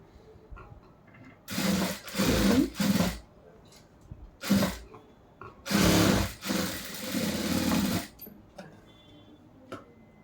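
A sewing machine stitches the shoulder seam of a churidar top in loud bursts of a second or two, separated by quieter pauses, with faint ticking between runs.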